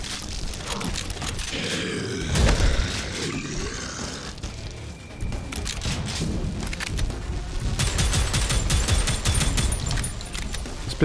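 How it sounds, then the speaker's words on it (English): A pistol fires repeatedly in Prodeus, an old-school first-person shooter, as sharp close shots in quick bursts over rumbling game noise, with heavy booms and growling creature sounds mixed in. "Pistol is actually kind of good"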